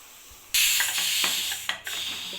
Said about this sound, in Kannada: ಕುಕ್ಕರ್ 1 ವಿಸಿಲ್ ಹಾಕಿದ್ದೀನಿ.